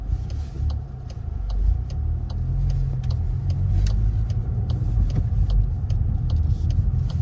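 Steady low engine drone and road rumble from inside a Volkswagen GTI (Mk8) while driving, with faint ticking clicks over a continuous mid-level hum and no talking.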